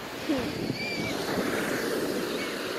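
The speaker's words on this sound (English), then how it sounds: "the waves are bigger, dude" Ocean surf breaking on Miami Beach, a steady broad wash of waves with wind rumble on the microphone, continuous and close, with brief voices faintly underneath.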